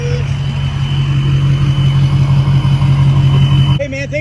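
A 6.0 diesel pickup truck's engine runs loud and close with a steady droning rumble, then cuts off near the end as a person starts speaking.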